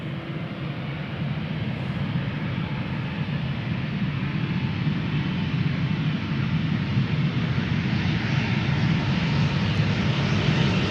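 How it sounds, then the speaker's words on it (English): An Embraer E2 with geared turbofan engines at Schiphol Airport gives off a continuous, loud, even engine roar that swells slightly toward the end, with no other sounds. "that's the whale sounds that you also hear from the E2 Embraers"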